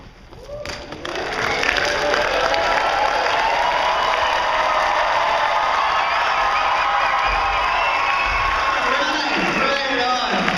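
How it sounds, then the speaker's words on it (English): Large audience at a charity stand-up event shouting, clapping and stomping their feet, building within two seconds into a loud, sustained roar of cheers and applause with low thuds underneath. "Shouting, clapping, and foot stomping."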